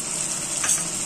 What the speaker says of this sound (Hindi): अब इसमें हम डालेंगे 1 बड़ा चम्मच लहसुन का पेस्ट